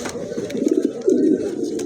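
A blue bar pigeon gives two close, low, throaty coos in quick succession, near and fairly loud.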